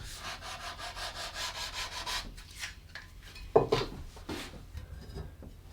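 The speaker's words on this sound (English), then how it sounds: "So I'm going to sand it nice and smooth" Hand sanding along the edges of a wooden guitar template makes rhythmic rubbing strokes, quiet and close, with a brief knock partway through and no talking.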